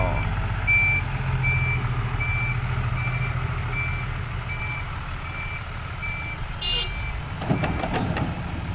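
A six-wheel dump truck reverses with a steady series of evenly spaced beeps over a constant diesel engine rumble at a four-lane road earthworks site, with a brief clatter near the end.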